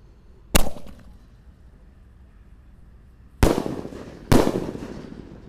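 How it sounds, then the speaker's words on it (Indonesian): A Basoka double attack firecracker going off outdoors, three sharp loud bangs, one alone then a pair about a second apart, each trailing into a short crackling decay. "Basoka double attack."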